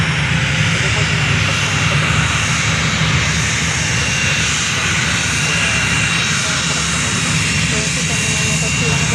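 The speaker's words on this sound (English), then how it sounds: "So I can confirm this is the Citation XLS." Citation XLS business jet passing at an airport, a loud continuous engine roar with broadband rumble and whine that holds steady throughout, with some speech mixed in.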